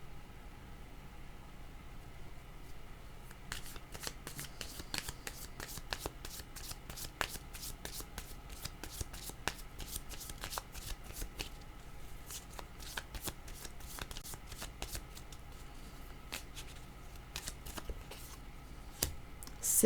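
Playing cards shuffled repeatedly during a tarot-style reading, a dense run of crisp riffling flicks and snaps that starts a few seconds in and continues steadily, fairly close and alone.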